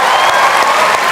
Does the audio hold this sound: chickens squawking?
no